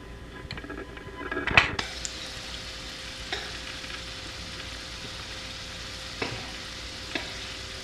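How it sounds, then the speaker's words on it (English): Tortillas fry in hot oil over medium heat for homemade nachos, giving a steady close sizzle with one sharp clatter of a pan or utensil near the start and a few soft taps later. "we're going to start cooking our tortillas because they are ready"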